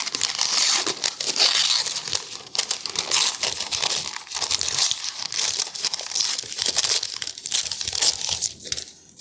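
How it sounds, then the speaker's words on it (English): Excess pie crust dough is torn away from the edge of a lemon meringue pie dish, giving a continuous close crinkling and tearing rustle with irregular crackles throughout. "I'm just going to tear off some of this excess"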